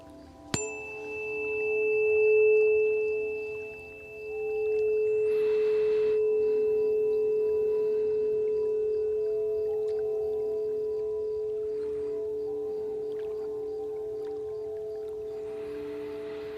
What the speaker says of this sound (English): This is a non-weighted tuning fork.